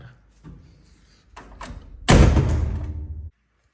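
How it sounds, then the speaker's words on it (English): A door swings shut with a solid thud after some quieter shuffling and handle noises, the slam ringing briefly before cutting to silence. "I'll close the door"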